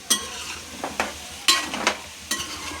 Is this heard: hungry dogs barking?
no